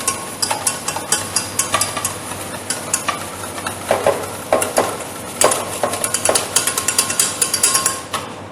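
Egg yolks stirred into cake batter for a meat floss cheese cake, heard as a close, rapid series of knocks and scraping clatters from a utensil working against the bowl, with a faint sizzling hiss underneath and no speech.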